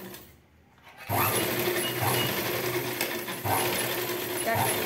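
A sewing machine stitches a blouse shoulder seam, its motor whirring in a steady close run after a brief quiet start, with a slight surge partway through.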